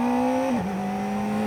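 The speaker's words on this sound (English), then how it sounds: "Just sounds like a miniature sports bike, which I guess it is." A 2024 Kawasaki ZX-4RR sports bike engine on a ride, a loud high-pitched steady whine that dips briefly as the revs drop, then holds again, heard up close over wind noise without talk.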